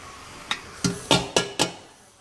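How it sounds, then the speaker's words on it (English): Dry pasta clatters into a pan of cooked vegetables for a vegetarian pasta dish, five sharp clinks and rattles spaced about a quarter second apart, fairly close and alone. "I am going to add my pasta"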